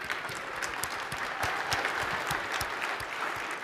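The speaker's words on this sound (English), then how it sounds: "let's give a big round of applause" Audience applause at a business talk on AI strategy, a steady dense wash of many hands clapping at moderate distance, fairly quiet and uniform throughout with no voices over it.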